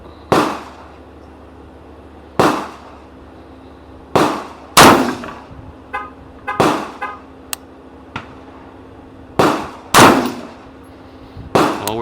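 Gas gun fired at the top target while shooting a group, with about nine sharp, loud cracks spaced a second or two apart, each trailing off into a short ring of the target.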